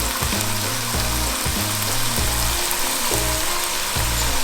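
Asian beef in sauce cooking down in a pan on a stove, giving a steady loud sizzle and bubbling frying noise with a low rhythmic hum throughout, no voices.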